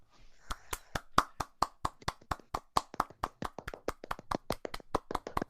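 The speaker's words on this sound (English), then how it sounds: "Applause all round" A single pair of hands claps steadily and rhythmically, about four claps per second for several seconds, close and fairly quiet, with no talking.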